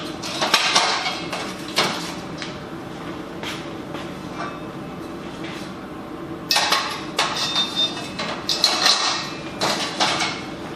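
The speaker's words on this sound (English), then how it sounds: "the cross members go into and just drop into place that easy" Metal cross members of a pro table leg kit drop into slots in the steel legs, giving loud nearby metallic clanks and clatters in two bursts with a quieter scraping stretch between, with no talking.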